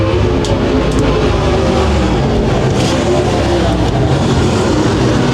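Race cars on an oval track roar loudly and continuously, a dense engine drone with a few brief passing swells and no talking over it.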